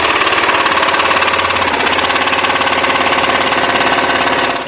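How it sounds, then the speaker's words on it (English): A jigsaw saws through a small plexiglass piece with a loud, close, rapid buzzing rattle that holds steady for a few seconds before starting to wind down at the end. "As little as this piece here is, I'm just going to go ahead and use a jigsaw on this"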